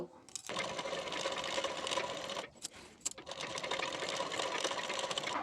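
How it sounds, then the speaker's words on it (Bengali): A sewing machine stitches the shoulder seam of a baby frock in loud, close, fast running bursts with two brief pauses. "এখানে হাফ ইঞ্চ গ্যাপিং দিয়ে সেলাই দিয়ে নেব"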